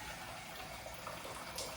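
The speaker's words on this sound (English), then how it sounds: "I've got a kettle of boiling water, so I'm going to put that in the saucepan" Boiling water pours from a kettle into a saucepan in a home kitchen, a steady, quiet, hissing splash that runs without a break and stands alone.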